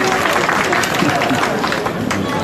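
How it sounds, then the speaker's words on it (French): Dense, loud applause fills a hall at a closing ceremony as an audience claps for teachers, a steady roar of many hands with crowd noise mixed in. "Je vous demande d'applaudir mes collègues enseignants"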